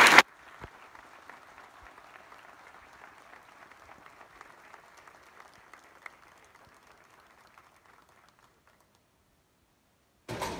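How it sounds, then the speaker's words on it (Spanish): An audience at a public event with a governor present gives a round of applause, a soft, steady patter of clapping that fades out toward the end before a burst of sound cuts in. "Yo quiero que el señor gobernador le dé un gran aplauso por..."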